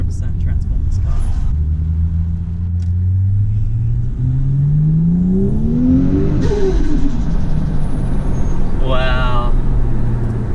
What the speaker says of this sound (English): that blow-off sound is so much different now